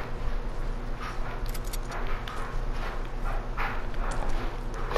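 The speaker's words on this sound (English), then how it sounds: "you can hear their footsteps and everything" Footsteps of players in the Fortnite video game, a rhythmic run of steps sitting under steady, dense in-game background noise.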